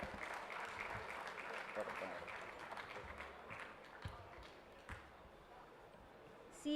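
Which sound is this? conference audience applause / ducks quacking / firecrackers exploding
conference audience applause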